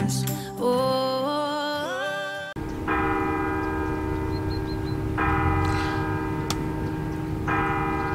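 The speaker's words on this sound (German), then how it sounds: "Mit den Kirchenglocken im Hintergrund" Church bells ring out in the Allgäu countryside, a steady sustained peal of several overlapping tones that starts after a brief stretch of music and carries on with a full, resonant, moderately close sound.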